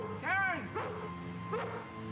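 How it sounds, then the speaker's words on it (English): A family dog barks three times at a back door at night, sharp yelping barks close by over a low steady hum. "At the back door, the family dog starts barking."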